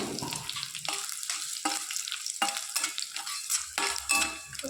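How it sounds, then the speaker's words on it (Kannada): Peanuts with cut dried red chili frying in a pan, a steady hiss broken by repeated bursts of crackle and scraping stirring strokes, close and moderately loud, with no talk. "ಇವಾಗ ಕಡಲೆ ಬೀಜ ಚೆನ್ನಾಗಿ ಫ್ರೈ ಆಗೈತೆ ಒಂದು ಒಣಗಿರೋ ಮೆಣಸಿನ್ಕಾಯಿ ಕಟ್ ಮಾಡಿ ಹಾಕೊಳ್ತಾ ಇದ್ದೀನಿ"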